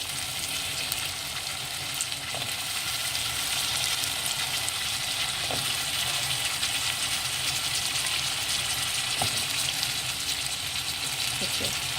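Vegetables tipped into a pan of softened tomatoes for a vegetable, egg and tofu soup and stirred: a steady, close sizzle with a few faint clinks and scrapes.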